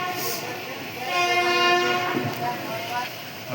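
A freight train standing at Santragachi, with a loud horn sounding steadily through the middle of the clip over a low rumbling background, no talk heard.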